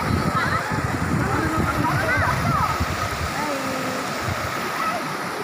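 Large river flowing loudly outdoors: a constant, rushing roar of churning water fills the scene, with splashy turbulence throughout and a voice talking over it.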